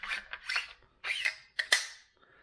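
Metal parts of a DPMS Panther AR-15 rifle sliding and scraping together as a new bolt carrier is pushed back into the receiver, a few close, faint rasping strokes ending in a sharper click.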